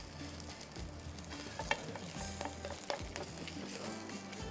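Parathas made with turnip sizzle and fry in a hot pan, a steady close crackle with scattered small clicks and scrapes, no voices.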